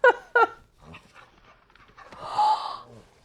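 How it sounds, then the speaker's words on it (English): A dog close by, with two short sharp yelps or whines up front, then soft breathy panting and snuffling, ending in a louder whiny exhalation. "Is that the dog?"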